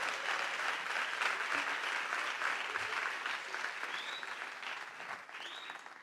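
A concert audience at the Institut Français du Congo breaks into sustained applause, a dense wash of many hands clapping, with a couple of faint whistles near the end.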